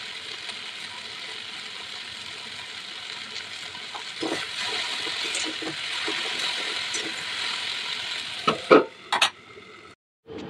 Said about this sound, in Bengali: ভেন্ডি ভাজা প্রায় হয়ে গেছে